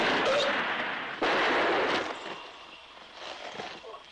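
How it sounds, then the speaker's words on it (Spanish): Gunshots in a Mexican western film: two sharp cracks roughly a second apart, the second louder, each with a fading echo, heard alone. "¿Fueron disparos?"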